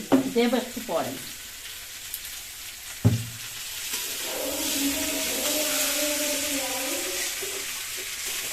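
New potatoes coated in spices are stirred in a frying pan: a voice speaks briefly, a utensil clanks against the pan, and then a steady, moderately quiet sizzle continues for several seconds.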